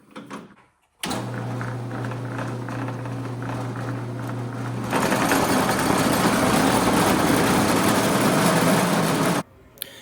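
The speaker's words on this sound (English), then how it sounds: "You want to be drilling at really low RPMs." A steady motorized whir with a low hum from a drill running at very low RPM runs for several seconds, then grows louder and rougher as the bit bites, stopping abruptly near the end.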